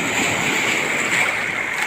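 Sea waves wash continuously at a beach, a steady broad rush mixed with wind buffeting the microphone, close and fairly loud with no voices.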